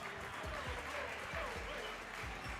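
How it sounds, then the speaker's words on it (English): An audience at a powerlifting meet claps in a sustained, dense round of applause, with a few voices audible in the crowd. "Give him a round of applause."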